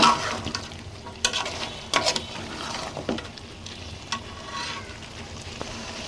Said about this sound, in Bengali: আলু আর চিকেন কষানো হয়ে গেছে